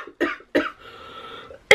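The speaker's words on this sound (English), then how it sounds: "I have a really annoying cough that I've picked up as well" Three sharp coughs, close and loud, the first two about a third of a second apart and the last after a pause with a quiet breath between them.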